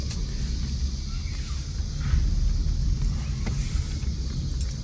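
A Honda Civic, a 2006-2011 model just fitted with a new power steering pump, drives on a test run with a steady rumbling engine and road noise heard from inside the car. The sound is continuous and fairly loud, with no talking.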